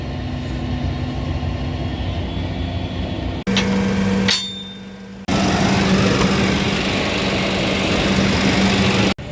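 Farm tractor engine running steadily while hauling straw bale wagons, a loud continuous low drone that briefly changes character midway with a clatter before resuming.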